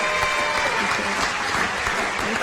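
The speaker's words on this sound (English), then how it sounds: "How about another round of applause for our candidates?" A crowd at a San Diego mayoral candidates forum applauds the candidates, a steady wash of many hands clapping at moderate volume from a room-wide audience, without speech.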